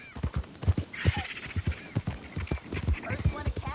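Horse hooves clip-clop in a steady rhythm in Red Dead Redemption 2, with clear repeated low thuds under ongoing spoken dialogue.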